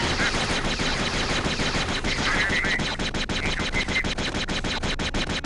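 In the Jedi Academy video game, a blaster weapon fires quick, steady repeated shots throughout, loud and close, with shots rattling off in a continuous stream and nothing else heard over them.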